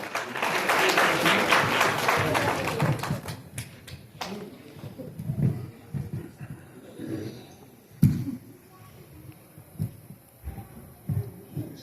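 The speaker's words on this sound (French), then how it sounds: "On applaudit s'il vous plaît." Wedding guests break into dense, lively clapping that peaks for a few seconds and then thins into scattered claps and cheers while people talk over it.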